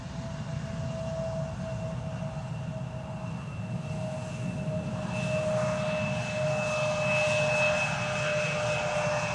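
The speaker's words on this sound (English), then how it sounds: "In the meantime, KLM flight 1056 arriving here. Landing." A KLM passenger jet from Norwich landing on the Polderbaan runway 18R at Amsterdam Schiphol, a steady loud engine roar with a sustained whine that swells slightly toward the end, heard alone.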